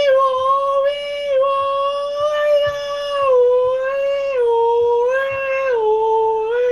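Siren Head in the Minecraft video game lets out a loud, long wailing scream with sliding, siren-like tones that rise and fall, continuous and close, with no talking.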